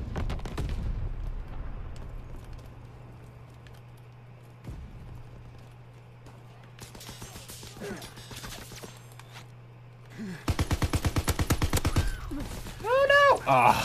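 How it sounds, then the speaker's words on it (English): Gunfire bursts in the World War II shooter Call of Duty WWII, rapid rattling volleys breaking out midway and growing dense and loud toward the end, over a low steady game hum. "Yikes, they're actually shooting stuff down."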